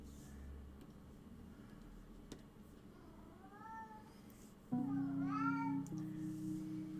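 A cat meows several times indoors, a couple of short faint meows followed by louder, longer drawn-out cries over a low background hum.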